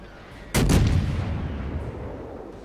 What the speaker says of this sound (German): die Kaiser wird da reichlich beschossen